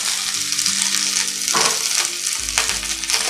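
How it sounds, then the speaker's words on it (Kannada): Curry leaves frying in about a tablespoon of oil in a pan, a loud, steady sizzle close up, with two brief stirring scrapes partway through. "ಇದನ್ನು 1 ಟೇಬಲ್ ಸ್ಪೂನ್ ಎಣ್ಣೆ ಹಾಕ್ಕೊಂಡು ಚೆನ್ನಾಗಿ ಫ್ರೈ ಮಾಡ್ಕೊಳ್ಳೋಣ"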